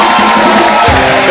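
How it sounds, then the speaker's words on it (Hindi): A studio audience on a Hindi comedy talk show cheers and whoops loudly in a brief, dense burst of crowd noise, with a voice rising through it near the end. "जैकी दादा के लिए जोरदार तालियां"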